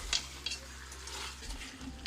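Goat meat for Jamaican curry goat fries in a pot, a steady close sizzle with scraping stirs and a few light clicks of utensil against metal, no voices.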